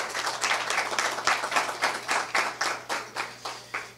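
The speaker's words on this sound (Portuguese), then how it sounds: "Uma salva de palmas, por favor," Audience applause at a Brazilian election-forum panel, a steady run of claps over the full stretch that fades toward the end, with a low steady hum underneath.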